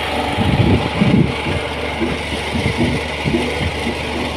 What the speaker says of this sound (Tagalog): Ayan po yung makina.